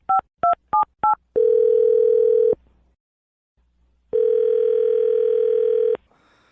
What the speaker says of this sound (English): I'm going to dial her phone number right now, okay?